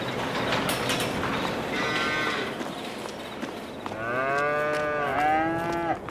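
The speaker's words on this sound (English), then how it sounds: "Let's check on the cows." Cattle lowing in Farming Simulator 22, a few drawn-out moos that overlap near the end, standing out clearly over a steady ambient farm background.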